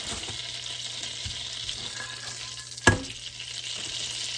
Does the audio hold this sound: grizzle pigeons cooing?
no